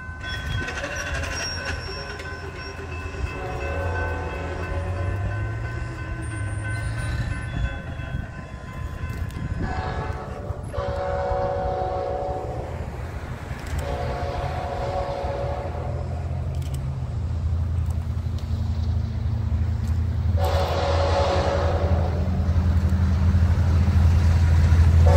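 Amtrak 73 passenger train passing in Charlotte, a loud rumbling roll that builds toward the end, with several long horn blasts sounding across the pass.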